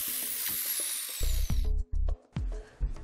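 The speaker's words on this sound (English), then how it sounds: "Grind off the paint to leave a clean surface for welding." An angle grinder strips paint from 20 by 20 mm steel section ahead of welding, heard as loud, close bursts of whining grinding that start and stop several times, with short pauses between passes.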